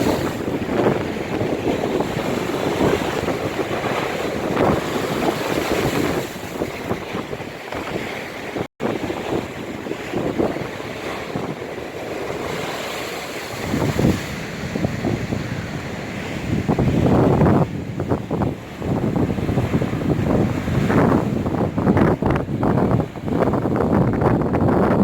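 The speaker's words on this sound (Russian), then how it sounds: "Какие превосходные большие волны." Large storm waves roll in on the Yalta seafront in March, strong wind buffeting the microphone with a continuous roar, and heavy surges crash and wash in several times, loud and close.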